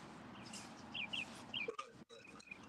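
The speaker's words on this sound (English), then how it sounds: "Listen at them birds, man." Birds chirping outdoors in the morning: a few faint, high chirps and tweets at a distance over a steady broadband background, with small rustles and knocks nearby and no voices.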